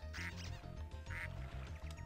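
Ducks quacking in the video game Spyro 2: Ripto's Rage, a rapid series of nasal cartoonish quacks repeating in quick bursts over a continuous game music bed.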